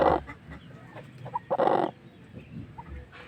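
Rhode Island Red hens cluck close by, a few short throaty bursts and soft murmurs spread unevenly over a few seconds with no talk.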